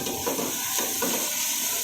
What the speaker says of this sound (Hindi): अब प्याज फ्राई हो रहा है तो इसके साथ ही हम शामिल कर देंगे साबुत जीरा और इसे भी अच्छी तरह से भून लेंगे।